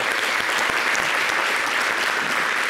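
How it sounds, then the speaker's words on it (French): Studio audience applauding a television producer, a dense continuous burst of clapping, loud and close, filling the whole stretch without voices. "On peut applaudir mon producteur."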